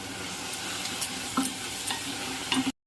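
Tomato purée and chili powder fry in a pan for prawn pulusu, sizzling steadily up close with a few scraping stirs before the sound cuts off.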